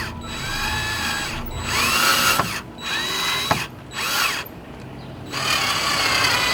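A power drill drives a screw into the frame of a DIY reptile tank, whirring in several bursts with short pauses between and a sharp ratcheting click as the screw seats, loud and close.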